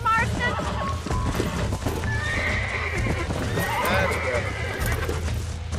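Horse neighing and whinnying with clip-clopping hooves during horse taming in the video game Red Dead Redemption, loud and continuous under someone talking.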